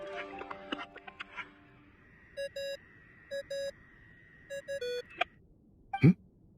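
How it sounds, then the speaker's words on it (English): A phone ringing tone in Genshin Impact, a repeated electronic two-tone ring sounding in short paired bursts over a quiet game background, with a few soft chimes at the end. "I really hate that ringing tone."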